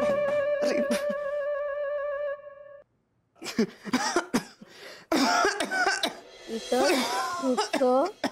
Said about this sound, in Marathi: खोकल्याच्या आवाजाने सुद्धा थरथरायला लागलं बघ घर आता